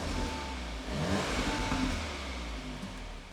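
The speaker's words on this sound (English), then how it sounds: "So the car obviously is cold, so we're not going to go too daft with the revs." A cold Audi S3 Black Edition engine idles and then revs gently in dynamic mode, a close, steady mid-pitched hum that swells briefly and settles back.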